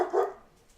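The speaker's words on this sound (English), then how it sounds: "My dog says yes." A dog gives a single short bark nearby, with faint room noise afterward.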